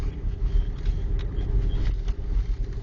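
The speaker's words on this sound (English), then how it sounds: "Driving down 145th Street from Highway 20." A car drives down a snow-covered street during a snowstorm, giving a continuous low rumble of engine and road noise with no talk.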